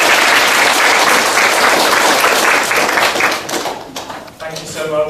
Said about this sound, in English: let's welcome him with a good big applause.